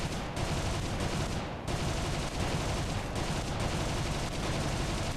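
Aircraft guns fired at a bomber in the BFE flight simulator, heard as a loud, dense, unbroken rattle of rapid shots over engine roar, with only brief dips.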